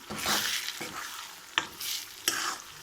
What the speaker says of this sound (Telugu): కొబ్బరి మసాలా అంతా పేస్ట్ వేసుకున్నాం కదండి, ఇప్పుడు మనం కలిపేసుకుందాము